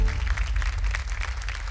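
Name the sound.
audience applause on TV show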